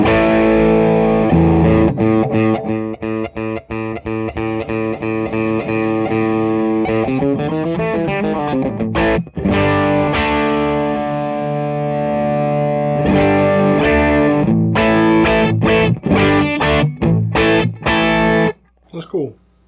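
Electric guitar played through a stereo rig, one output going clean to an amp and the other through a distortion pedal into a second amp, ringing out loud and continuous with chords and single notes, then stopping abruptly near the end.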